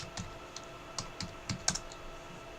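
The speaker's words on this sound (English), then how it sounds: "I started typing a name, I hit tab to check names" A name is typed on a computer keyboard while members are added to a group in Active Directory. Soft, scattered keystrokes come in a short irregular burst over quiet room noise, with no talking.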